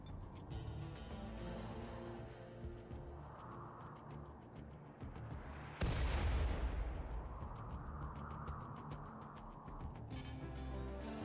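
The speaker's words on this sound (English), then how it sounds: "If my mortars can reach it, surely his mortar can reach me." Mortars fire in the video game RimWorld: a heavy, booming blast lands midway and rolls out over continuous game background sound.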